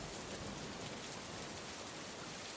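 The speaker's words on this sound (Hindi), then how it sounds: "आधी रात में बहुत तेज बारिश होने लगी।" Heavy rain pours at night in a steady, dense roar of drops on surfaces, loud and unbroken throughout, with no voices.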